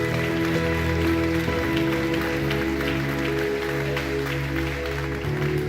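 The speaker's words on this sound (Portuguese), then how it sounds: "Pode aplaudir a Ele." A church congregation applauding, a sustained dense patter of many hands clapping in a hall, while an organ or keyboard holds steady chords underneath.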